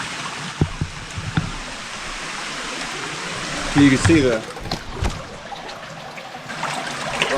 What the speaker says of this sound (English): All of that water is coming from this, man.